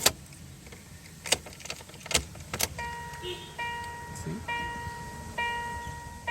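A Tata Indica Vista Quadrajet has trouble starting: key and ignition clicks and a short crank come first, then a warning chime beeps repeatedly while the car fails to keep running. The sound is faint and close inside the car.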